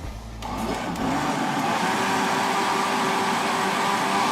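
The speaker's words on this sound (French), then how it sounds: "Allez, tu me le mets à mixer." Blender puréeing cooked chestnuts and vegetables for a velouté in a restaurant kitchen, spinning up from a brief start into a loud, steady whirring drone held close throughout.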